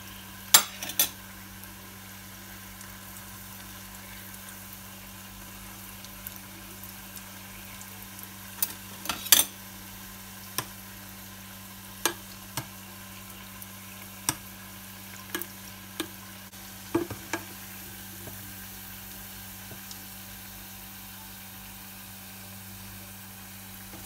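Griwech pastry pieces fry in oil with a faint, steady bubbling hiss, while scattered utensil clicks and taps mark the pieces being turned.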